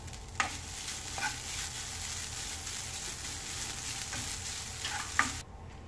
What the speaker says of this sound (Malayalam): തേങ്ങ എണ്ണ ഒന്നും ചേർക്കാതെ വേണം വറുക്കാൻ